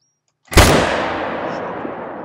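A single loud rifle shot rings out from the hunting video game Call of the Wild during a red deer hunt. It comes after a brief silence, with a sharp crack and a long booming decay.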